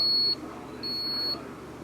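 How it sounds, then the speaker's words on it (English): A drip coffee maker signals the end of brewing with three loud, clear electronic beeps, two long tones and the start of a third, close and alone with no talking. "There's the beep signaling the end of the coffee being brewed."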